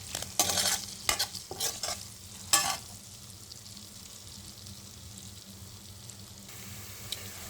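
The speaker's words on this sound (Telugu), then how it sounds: "జస్ట్ ఇలా ఒక 1 మినిట్ పాటు ఫ్రై చేసుకోవాలి మనకి పొటాటో అనేది." Potatoes frying with turmeric in a pan while being stirred, with a cluster of loud scraping stirs early on, then a low, steady sizzle that carries on quietly with no voices.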